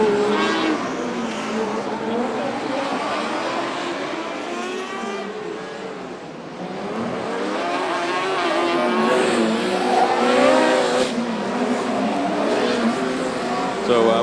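A Formula Student race car driving on a track at a student competition, its engine note rising and falling through gear changes, with a commentator talking over it throughout.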